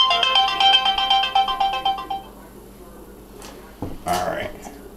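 A mobile phone ringtone plays a repeating melodic pattern for about two seconds while the phone sits inside a microwave oven, then stops, followed by a knock and a brief cat-like sound.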